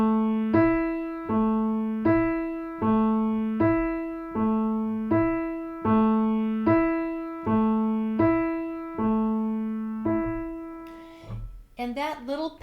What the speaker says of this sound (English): the music begins with something called an ostinato